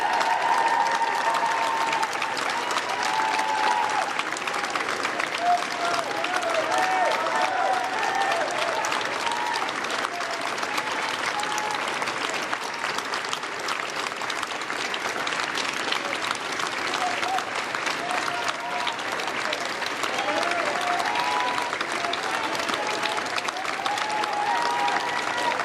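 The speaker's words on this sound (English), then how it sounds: "And applause inside," Sustained applause from a large crowd greeting a new British Prime Minister, steady and fairly loud throughout, with faint voices and cheers mixed in.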